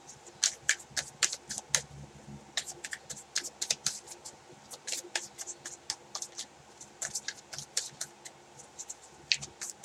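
Tarot cards handled and shuffled at close range, producing quick, crisp clicks and snaps in uneven bursts, faint against a quiet room.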